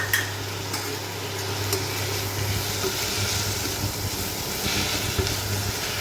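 Tomatoes frying with caramelized onions in a pot on sauté mode, a steady soft sizzle with occasional stirring scrapes and light clinks over a constant low hum.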